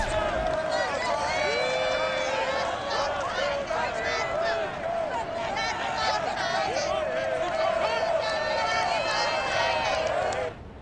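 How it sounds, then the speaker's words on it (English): A virtual stadium crowd in Madden NFL 22 cheers loudly for the Tennessee Titans, a sustained roar of voices with chanting and whooping layered on top, running without pause. "This crowd here fired up for football as a moment ago their Titans were introduced"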